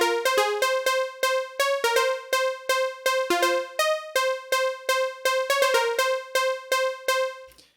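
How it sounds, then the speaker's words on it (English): A saw-wave synth with its envelope sweeping the filter plays a melodic techno line in short plucked notes, each bright attack closing quickly, in a steady driving rhythm with no voices. "all I've done is set up a saw wave, and then I've got the envelope running to the filter as well"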